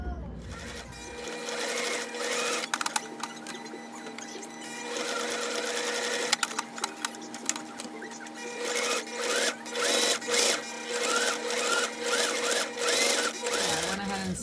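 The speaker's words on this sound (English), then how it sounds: "I'm going to go ahead and stitch this down along the edge all the way around" A sewing machine stitches along the edge of a round bear-shaped circle bag. The whirring runs steadily, then breaks into short bursts and pauses near the end.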